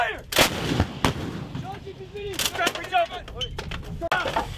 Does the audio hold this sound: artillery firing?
yes